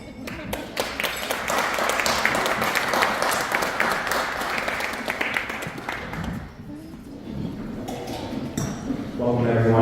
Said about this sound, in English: So, ladies and gentlemen, give a big round of applause for Davika.